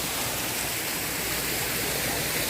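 Water flowing steadily at a resort, a continuous broadband rush like a small stream or spillway feeding toward a pool, near and unbroken from start to end with no voices.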